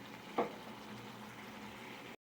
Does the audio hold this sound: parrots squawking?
no